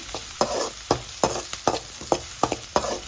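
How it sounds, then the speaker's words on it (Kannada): Two onions frying in ghee in a pan for Mangalorean crab sukka, a soft sizzle broken by regular sharp scrapes of a spoon stirring about every third of a second. "ಇದಕ್ಕೆ 2 ಈರುಳ್ಳಿನ ಹಾಕಿ ಫ್ರೈ ಮಾಡಿಕೊಳ್ಳಿ"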